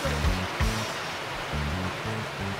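Water pouring into a cooking pot to boil sticky-rice suman: a steady rushing splash with low gurgling pulses, close and fairly loud, no talk.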